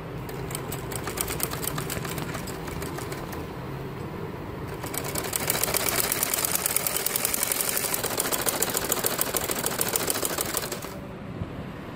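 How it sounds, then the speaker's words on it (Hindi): A sewing machine stitches a tulip salwar, starting the seam at the ponche hem, in a fast steady mechanical rattle that runs for most of the clip, swelling louder midway and stopping near the end, with no talk. "यहाँ मैं सारी सिलाई करने लगी"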